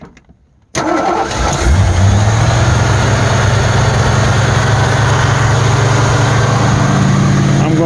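Engine fitted with a Chinese Ford 2100 carburetor cranks and catches after a moment of quiet, then settles into a loud, steady idle with a constant low hum, close by.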